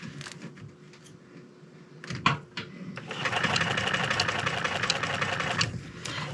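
Sewing machine stitching along the edge of a fur hide for a bomber hat: a few short taps and a clack, then a steady, loud mechanical whir running close up for the last few seconds.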